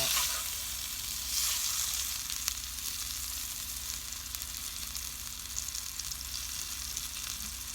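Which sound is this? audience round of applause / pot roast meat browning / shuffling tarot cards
pot roast meat browning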